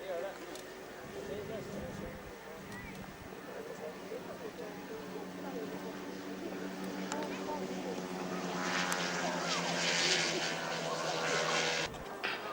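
Propeller aircraft, a Shogun and a small Cricri, make a formation fly-past at a 1998 St Mawgan air show, a steady engine drone building gradually louder then cutting off near the end, with commentary over it.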